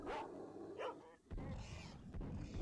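Mutant dogs in the video game S.T.A.L.K.E.R. Shadow of Chernobyl bark and yip in a few short bursts, moderately close amid rumbling game ambience.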